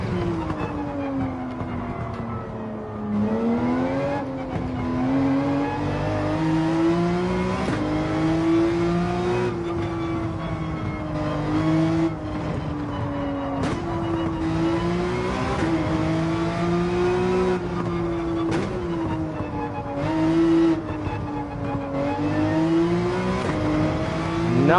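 Porsche 911 engine in the Gran Turismo 7 racing game revs hard and continuously through gear changes, its whining pitch climbing and dropping repeatedly over a long lap, loud with no talk.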